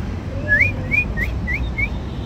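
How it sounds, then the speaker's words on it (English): A person whistles to call a dog outdoors: five short, clear, rising whistles in a steady rhythm over a low rumble of background noise, with no talking. "How do you call a dog? Just whistle."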